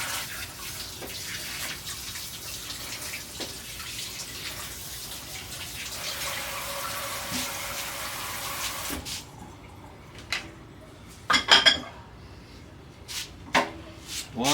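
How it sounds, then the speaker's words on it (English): Kitchen tap water runs steadily while someone washes hands after making biscuits, a soft continuous splashing flow that cuts off midway, followed by a few faint clatters and handling sounds. "Wash my hands."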